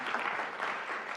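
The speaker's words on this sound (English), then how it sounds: "We applaud all of our administrators" An awards ceremony audience applauds in a steady wash of clapping, fairly quiet and without voices over it.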